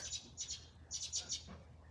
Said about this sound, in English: the birds are just talking